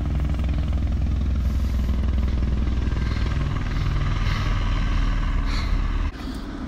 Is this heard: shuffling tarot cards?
no